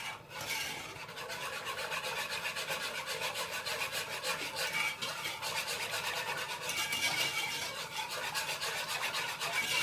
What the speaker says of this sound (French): je mélange le tout au fouet pour bien faire dissoudre donc la maïzena